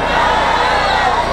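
A dense crowd at a live concert in Campo Grande, Brazil, roars and cheers continuously at close range, a loud wash of many voices with no pauses.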